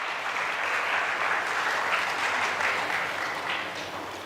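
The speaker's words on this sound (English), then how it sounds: "a huge round of applause for all of you" Audience at a memorial lecture in a hall breaks into sustained applause, a full, even wash of many hands clapping that fades slightly near the end.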